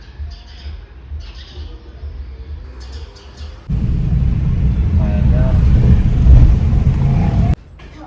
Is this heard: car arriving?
yes